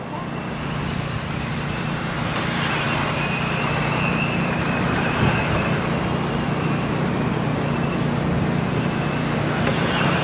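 Race cars running on a short track during an amateur racing event, a steady broad engine drone with a low rumble holding throughout, heard from a distance without voices.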